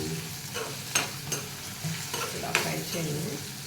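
Stirring and frying in a pan over a medium flame while cooking cucumber roti pachadi, a steady soft sizzle broken by a few sharp spatula scrapes and clinks.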